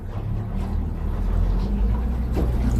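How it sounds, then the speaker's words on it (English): A Duckworth 240 offshore boat idles in gear around 600 rpm, a steady low engine rumble with a slight vibrating throb, close and continuous throughout. "So now we're in gear, we're about 700, put in gear 600, you're gonna have this slight vibration, that's normal."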